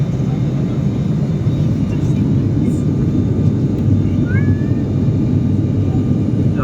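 Inside the cabin of a US Bangla aircraft on landing approach, a loud, steady low roar of engine and airflow fills the whole stretch without letting up.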